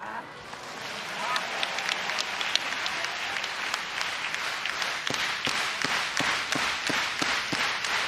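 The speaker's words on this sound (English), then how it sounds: "It is a raucous Osaka crowd" A raucous Osaka crowd at a professional wrestling event fills the hall with steady applause and sharp rhythmic clapping that builds over several seconds, with crowd noise underneath.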